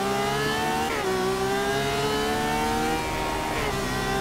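Ferrari FXX K engine in Forza Motorsport 6 revving hard and steadily, a loud sustained high-pitched whine with two brief dips as gears shift, alone without talk.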